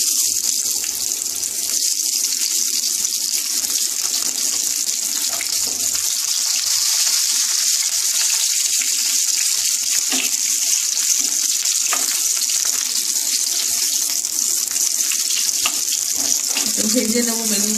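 Eggplant slices frying in about five spoonfuls of hot oil in a pan, a steady close sizzle and hiss that runs unbroken throughout with small crackles and no talking.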